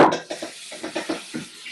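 A teaspoon of garlic and ginger paste goes into a cooking pan during a Bangladeshi curry demo, giving several short, close clinks and scrapes of utensil against pan.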